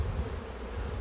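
Honeybees on a crowded hive frame make a close, steady low buzz that holds without pause, with no voices.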